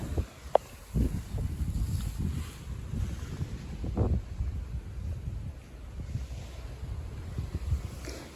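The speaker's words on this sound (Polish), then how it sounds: "Jedziemy na wycieczkę z lokalsami wielką łodzią powolną, nie tą szybką łódką, tylko tak jak fery." A large, slow tour boat motors across the sea on a day trip, its low engine rumble and rushing water steady under wind buffeting the microphone.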